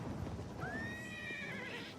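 A horse in the video game Oblivion lets out a single clear, drawn-out neigh, rising and then wavering as it fades, heard close over a dense layer of low game background rumble.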